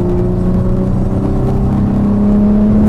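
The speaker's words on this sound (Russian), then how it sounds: "И благородный звук мотора." Dodge Challenger engine accelerating hard, a loud steady close-up roar with rising harmonic drone filling the cabin, continuous and without talk.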